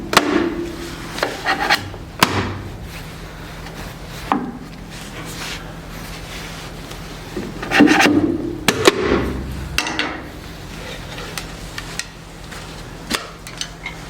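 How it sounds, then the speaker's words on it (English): A carpenter's chisel is worked under a glue block to pry a curly maple bowl free in a woodturning shop, giving a series of close scraping and rubbing sounds with a few sharp knocks and taps. "Just sliding this carpenter's chisels underneath the glue, being really careful not to touch the bowl,"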